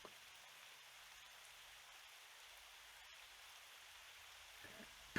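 Freezing sleet falls outside on a winter night as a faint, steady hiss that stays even throughout, with no voices.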